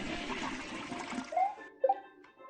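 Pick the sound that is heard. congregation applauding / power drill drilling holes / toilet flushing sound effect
toilet flushing sound effect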